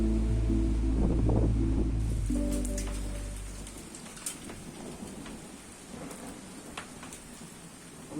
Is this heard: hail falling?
yes